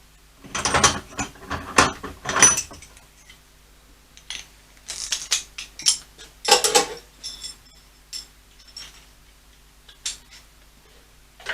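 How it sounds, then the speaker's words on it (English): A ratchet turning a 14mm socket on a CB-1 motorcycle's rear shock, close and fairly loud bursts of quick clicking that come in spurts with pauses between, no talking. "So 14mm socket, probably an extension would help."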